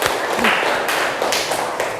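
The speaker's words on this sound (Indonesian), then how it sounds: "Tepuk tangan dong buat kalian semua." Applause for vocational high school students at SMK Negeri 15 Bekasi, a dense wash of clapping from a group, fairly close and steady for about two seconds with a few sharper claps standing out.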